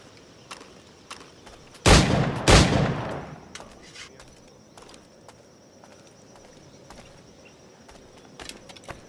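Two sharp firearm shots from the Assassin's Creed IV Black Flag video game ring out in quick succession, loud and close, followed by a quiet ambient game background with faint ticks.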